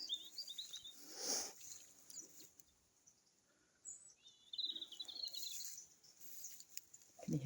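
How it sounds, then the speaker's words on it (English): Small birds chirp and tweet outdoors in scattered high bursts, fairly faint, with quiet gaps and brief rustling noise between calls. "can you hear those birds?"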